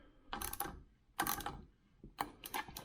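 A ratchet with a 17mm deep socket tightens a nut on the mount of a Lowrance Ghost trolling motor on a Triton TR196 boat, making three short bursts of rapid, close clicking.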